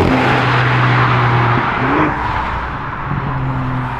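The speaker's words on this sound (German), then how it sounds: "ob wirklich von außen so richtig der richtige Kompressor-Sound zu hören ist hier" A BMW M4 fitted with an Infinitas hybrid supercharger accelerates outside, a loud close engine drone rising through gears, then easing off and building again.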